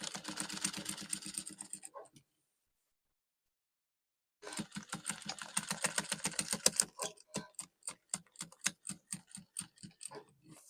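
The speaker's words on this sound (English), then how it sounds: "I'll also stitch, but this time around I'm stitching on the two sides" A sewing machine runs in fast, rattling bursts while stitching bias binding along the two sides of a princess-dart bustier, with a brief pause before a longer run that slows into separate ticking stitches.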